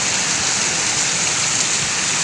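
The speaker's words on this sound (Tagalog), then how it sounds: "lumakas yung ulan. Bumuhos ng malakas." Heavy rain pours down in strong wind, a dense, loud, unbroken roar of hissing water with no pauses and no voices.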